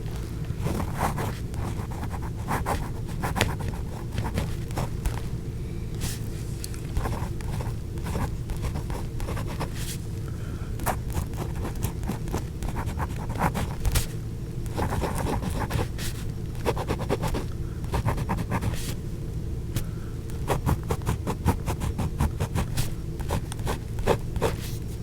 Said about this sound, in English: Let's see how the nib works.